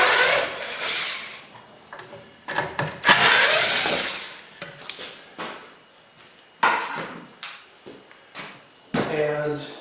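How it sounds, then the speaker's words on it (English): A power driver backs drywall screws out of a routed hinge pocket cut in a door edge, in short, loud, whirring bursts separated by pauses and handling knocks. Someone speaks between the bursts. "I can remove the drywall screws"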